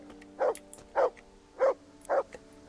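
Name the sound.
dog barking, from the video game Kingdom Come Deliverance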